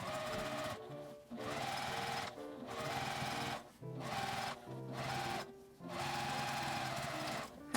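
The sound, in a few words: sewing machine stitching edge of tote bag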